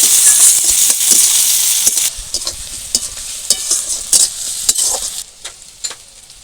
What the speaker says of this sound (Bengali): এবার কাঁচা লঙ্কা একটু ভালো করে ভাজা ভাজা করে নেব